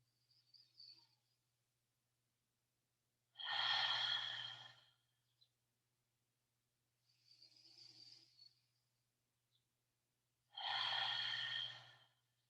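Slow, deep yoga breaths in a quiet room, two long loud exhales with a sighing quality, separated by softer, shorter breaths, close and alone over a faint steady hum.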